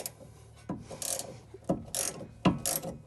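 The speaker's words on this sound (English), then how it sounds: "take off the retaining nut" Close ratchet wrench clicks in short repeated bursts on a 14 mm retaining nut of a rear sway bar end link on a Pontiac Grand Prix, each bout of cranking separated by brief pauses.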